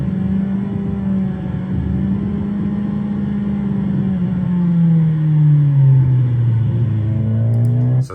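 A vehicle engine pulls out of a tight corner with the throttle opening, a steady loud drone that deepens and swells as it accelerates, with wind rush over the whole stretch.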